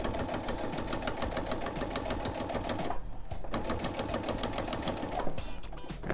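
A sewing machine runs steadily while stitching around a homemade oven mitt, its rapid mechanical needle chatter loud and continuous with a brief dip near the middle.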